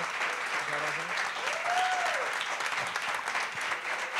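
Thick, steady clapping from an audience at a live podcast in Madrid, sustained at an even loudness for the whole stretch, with faint voices and a short cheer audible beneath it.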